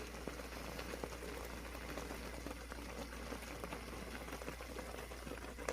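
Caramelized semiya payasam, a vermicelli pudding made with condensed milk, bubbles steadily in a pot, giving a continuous soft simmering patter with no talk.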